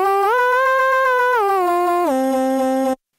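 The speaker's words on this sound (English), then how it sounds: "This melody was really simple, just to play on the keyboard" A simple keyboard synth melody from a remix, played with glide so notes slide smoothly between a few sustained pitches, loud and clean with no other sound, ending abruptly.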